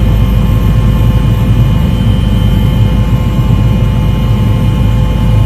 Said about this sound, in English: So this is Prime Minister Holness in a helicopter